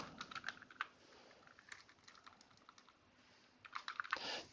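Rapid typing on a computer keyboard while entering an MS SQL Server trigger command, with bursts of clicking keys at the start and end and a lighter patter in between, no voices.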